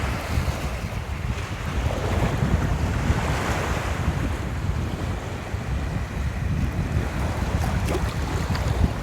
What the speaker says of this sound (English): This is the highest waves I've seen here.